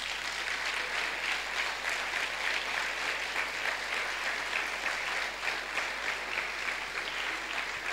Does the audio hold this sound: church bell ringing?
no